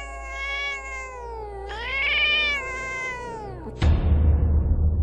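A cat gives a long, drawn-out meow that rises and falls in pitch, close and clear, then a sudden loud, harsh noise bursts in and continues to the end, setting an eerie horror-story mood.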